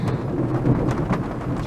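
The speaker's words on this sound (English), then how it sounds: "Can you hear that? That's thunder. I'm just in the middle of a terrible storm." Thunder rumbles through a heavy storm with rain falling, a low, continuous, fairly close roll that swells and eases without a sharp crack, no voices heard.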